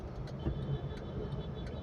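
A car inches forward through congested market traffic, giving a low, steady engine hum heard from inside the cabin. Faint background noise from the road sits underneath, and there is no speech.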